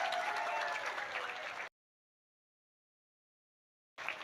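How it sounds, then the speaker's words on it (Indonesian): Women at a Muslimat religious gathering applaud their preacher with dense, steady clapping for about a second and a half. It then cuts to silence, and the applause returns briefly at the end. "saya minta tepuk tangan dulu luar biasa"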